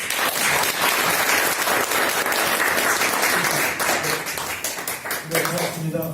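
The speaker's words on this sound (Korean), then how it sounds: "박수로 맞이해주시면" A lecture audience in a smart home standards course gives a loud burst of sustained clapping to welcome the speaker, thinning toward the end as a voice begins to come through.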